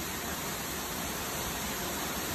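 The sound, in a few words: Horsetail Falls waterfall, Columbia River Gorge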